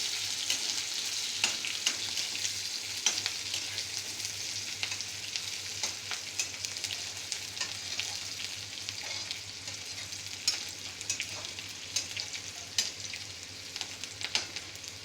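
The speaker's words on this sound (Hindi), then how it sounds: "और यही टाइम है जब हम इसमें डालेंगे प्याज। लाइटली इसको टॉस कर लीजिए।" Onions sautéing in hot oil for upma, tossed lightly in the pan: a continuous soft sizzle with scattered sharp crackles and pops throughout, steady and close, with no speech.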